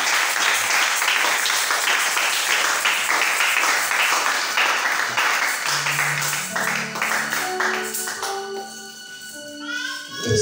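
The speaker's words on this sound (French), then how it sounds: "Ah, on acclame le Seigneur." A church congregation applauds and acclaims the Lord with loud, dense clapping that gradually thins and fades, giving way to sustained musical tones and a few raised voices at the end.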